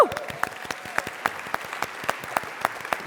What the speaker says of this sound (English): can we give the Kraken a round of applause?